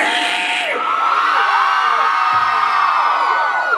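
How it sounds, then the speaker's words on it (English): A concert crowd of women at a show screams loudly, high sustained shrieks and whoops blending into one continuous roar from a large audience. "Ladies, I need you to scream!"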